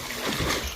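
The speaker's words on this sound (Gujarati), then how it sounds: "ઠંડુ પાણી છે એમ તો પણ હવે કૂદી નાખીએ" A person jumps into cold water at a farmhouse, making one brief, loud, close splash.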